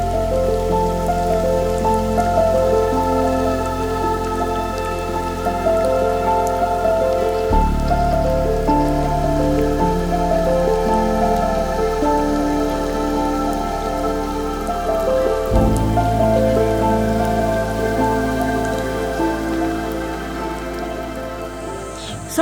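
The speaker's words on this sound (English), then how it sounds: "Bit of a rain squall there in front of us now." A rain squall patters steadily over a fishing boat at sea, dense drops hitting the surface throughout while a low engine drone hums beneath and shifts pitch twice, with no talking.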